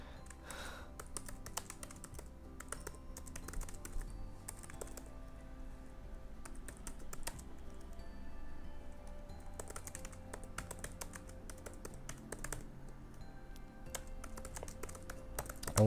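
Continuous typing on a computer keyboard, rapid, irregular key clicks and taps at a close, moderate level with brief pauses, while The Great Gatsby is typed out.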